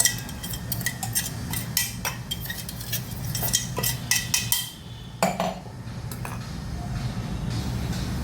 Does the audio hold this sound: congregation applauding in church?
no